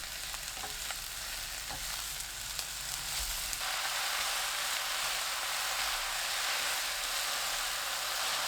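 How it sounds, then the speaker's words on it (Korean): Oyster mushrooms and onion stir-fry on high heat in a pan with olive oil, minced garlic and scallions, giving a loud, continuous sizzle that grows fuller partway through, with no voices. "양파 넣고 센 불로 3분 볶습니다."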